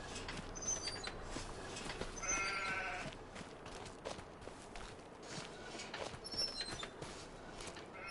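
Sheep and goats bleat in Farming Simulator 25, a few scattered calls over a steady farmyard ambience with faint footsteps, no talking.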